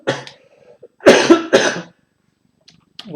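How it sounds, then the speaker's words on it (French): One person coughs close to the microphone, a short cough followed by two sharper bursts and a small throat noise at the end. "tousser un peu sur le côté"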